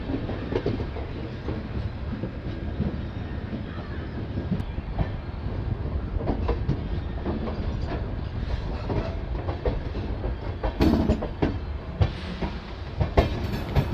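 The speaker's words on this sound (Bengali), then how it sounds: "ভোরবেলার নিস্তব্ধতায় ট্রেন ধীরে ধীরে বর্ধমান স্টেশন এন্টার করছে।" The Padatik Express from New Alipurduar to Sealdah rolls slowly into Bardhaman station at dawn, a steady close rumble of wheels and carriages with soft rhythmic clatter throughout.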